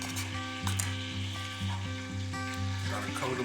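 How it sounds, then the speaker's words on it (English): Floured chicken strips frying in hot oil, a steady close sizzle over a low electrical hum, with faint clinks of a fork in the pan. "Put them in the oil a little bit."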